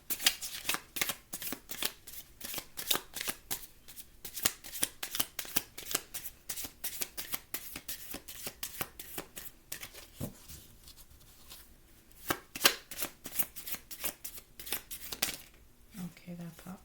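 Tarot cards shuffled by hand in a steady run of crisp, rapid riffles and slaps, close and fairly quiet, continuing for the whole stretch with only short pauses and no talk.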